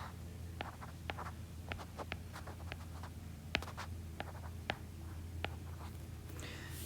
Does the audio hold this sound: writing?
yes